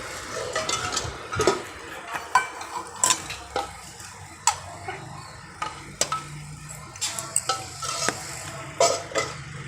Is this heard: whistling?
no